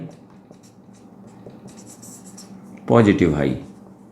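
A marker or chalk scratches across a classroom board during a physics lesson on electric fields, heard as faint, close scraping strokes before a burst of a man's speech.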